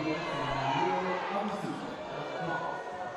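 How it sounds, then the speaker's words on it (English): Teammates and spectators at a youth bouldering world championship in Innsbruck call out encouragement to a climber, a murmur of crowd voices and shouts running beneath commentary talk. "You might be able to hear the encouragement from the Canadian team"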